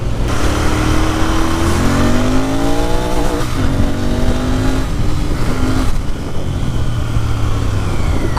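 Royal Enfield Interceptor 650 BS6 motorcycle riding along, its engine note rising and falling through gear changes with steady wind and road rush close to the rider, no talking.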